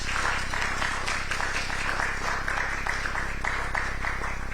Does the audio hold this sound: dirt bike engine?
no